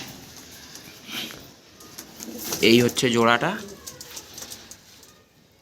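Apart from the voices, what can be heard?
pigeons cooing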